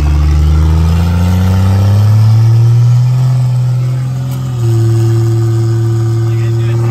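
A 3rd Gen Cummins diesel truck engine built to 1100 hp revs loudly and up close, its deep tone climbing and holding high, dipping briefly, then surging back to a steady high rev.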